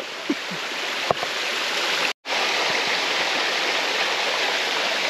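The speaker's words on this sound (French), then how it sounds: "je vous remontre une dernière fois la cascade de la Piche" The Piche waterfall at Prayols in Ariège rushes with a constant, loud, close roar of falling water, broken only by a brief dropout midway, with no speech.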